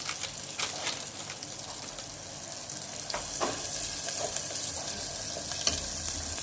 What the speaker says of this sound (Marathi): आता आपण हा जो मसाला बनवून घेतला तो टाकणार. याला पण आपण छान तळून घेणार.